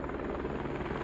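Helicopter rotor and engine roar, loud and close, a steady broadband thrum with low rotor pulsing as the aircraft comes down to land, no voices over it.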